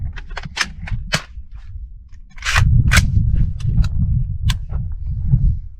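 Gunshots from a rifle fitted with a Tac-Con GT Mod 1 assisted reset trigger, fired at an outdoor range as a string of loud, sharp reports, several spaced shots and then a denser run of rapid fire.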